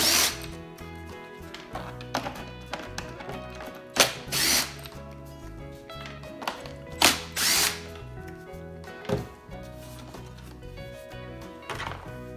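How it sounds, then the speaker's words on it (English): Power drill with a Phillips bit backing out the cover bolts on a Honda EU2000i inverter generator, heard as repeated short whirring bursts with pauses between them, close and clear, with faint clicks from the tool. "with a Phillips head bit, we remove the 4 bolts that hold the cover in place."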